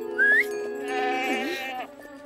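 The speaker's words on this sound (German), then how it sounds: "Eine Ziege!" Goat in a cartoon setting on an alpine meadow near a mountain hut gives a short high bleat, heard over steady background music and chiming tones.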